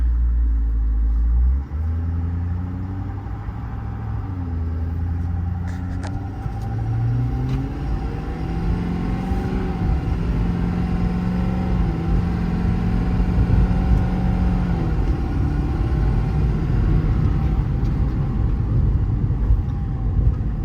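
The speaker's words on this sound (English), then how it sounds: "Shifts nicely through the gears. We got up into 9th gear on that short little run." A 2020 Ford F550 extended-cab service truck with a 6.7 Powerstroke diesel, 10-speed automatic and about 150,000 miles drives off, its loud engine drone climbing in pitch and dropping at each upshift under steady road rumble.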